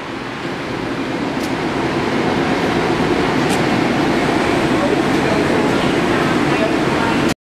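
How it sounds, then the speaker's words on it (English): Steady loud rumble and rolling hum of an eastbound Long Island Rail Road train, heard from inside the car, continuous from start to finish with no talk. "This is an eastbound train."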